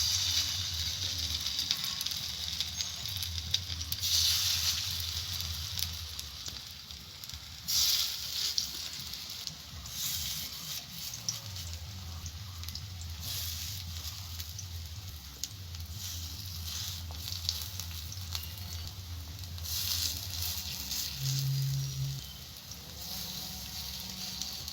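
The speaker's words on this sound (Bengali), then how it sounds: "তেল গরম হয়ে গেছে বন্ধুরা, এবার আমি বড়াটা ভেজে নিচ্ছি।" Palm fruit fritters fry in hot mustard oil in a kadai, giving a soft continuous hiss and patter with intermittent crackling bursts and a low hum underneath, no voices.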